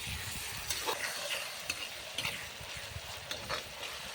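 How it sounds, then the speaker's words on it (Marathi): Tomatoes sautéed in oil for dhaba-style chicken masala, stirred steadily in the pan: a continuous soft sizzle broken by repeated light spatula scrapes and clicks, close and moderately quiet, with no talking. "टमाट्यांना जोपर्यंत तेल सुटत नाही तोपर्यंत आपण हे चांगलं कलसून घेऊया."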